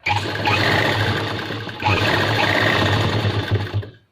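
An electric sewing machine runs steadily, stitching a wallet pocket onto a pair of trousers half an inch from the edge, with a continuous close whir that pauses briefly midway before resuming.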